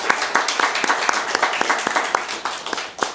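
Congregation clapping during a Sunday morning church service, a moderately close round of applause with individual claps audible through the steady patter.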